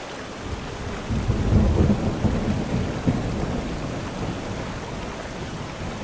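Steady heavy rain with a low rumble of thunder rolling in after the first second in the video game Horror Tales: The Beggar, a dense, continuous wash of downpour with no voices.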